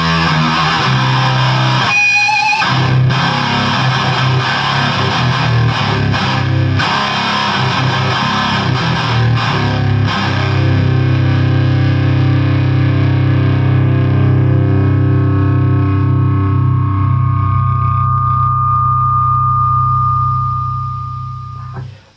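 High-gain distorted electric guitar running through a Rowin noise gate pedal, dense loud chugging riffs that give way to a sustained ringing chord and a held feedback-like tone before cutting off cleanly into silence.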